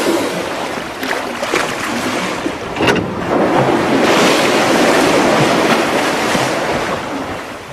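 A boat motor runs on the open sea near a pod of whales. It makes a steady, broadband rumble blended with wind and wash from the waves, continuous throughout and swelling slightly in the middle.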